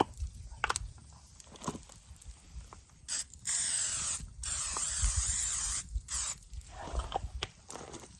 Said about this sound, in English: We're going to spray it with Pam.